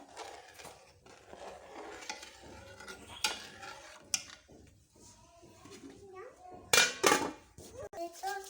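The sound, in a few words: stirring rice kheer in a pot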